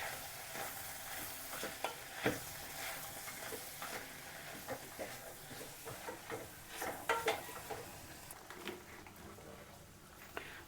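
Sambar powder being stirred into a cluster beans curry in a pan, with a soft sizzle and repeated scraping strokes of a spoon close by, steady and fairly quiet, with no talking.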